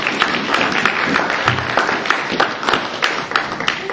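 A church congregation claps and acclaims during a sermon: loud, continuous mixed clapping and crowd noise, close and busy, with scattered sharper hand claps standing out.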